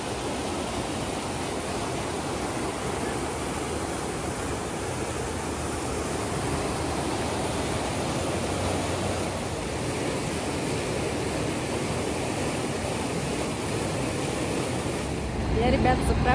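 Loud, continuous rushing river water carrying huge tree trunks roars steadily throughout, broad and close, with a brief swell of louder noise at the end.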